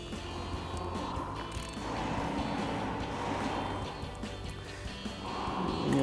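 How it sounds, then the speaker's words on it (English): A 13mm socket wrench ratchets while tightening a cable terminal nut during a winch install on a Jeep Wrangler, a continuous close clicking of the pawl with mechanical rattles throughout. "We'll tighten that down with our 13mm socket."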